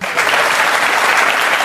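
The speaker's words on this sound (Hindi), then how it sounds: "ये लोग ताली बजाने वाले कौन होते हैं जो हर बात पे ताली बजाते हैं" Studio audience at a televised debate claps continuously, a loud, dense and steady burst of applause from many hands with no talking over it.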